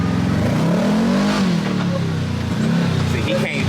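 A Lamborghini SVJ Roadster on a mountain road sweeps past with a loud rising and falling engine roar, close and forceful, while people talk over it.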